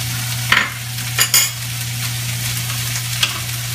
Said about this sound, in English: You're going to use about a tablespoon of minced garlic. So, let's get that in there.